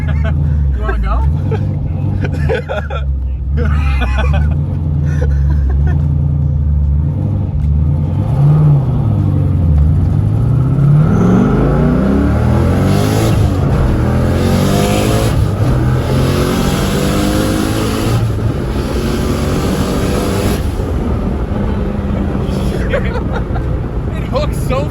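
A freshly tuned Toyota Supra making about 600 wheel horsepower revs hard and accelerates away, engine climbing in pitch through sweeping gear pulls, loud and close, with people talking and a crowd murmuring under it.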